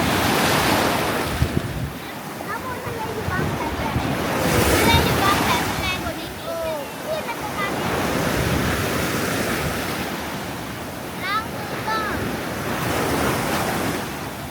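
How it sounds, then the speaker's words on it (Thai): Strong rainy-season sea waves crash and roll onto a beach in Chanthaburi, Thailand, in continuous surges, with heavy wind buffeting the microphone and faint voices in the background. "หน้าฝนครับคลื่นแรงมาก"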